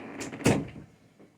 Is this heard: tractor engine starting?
no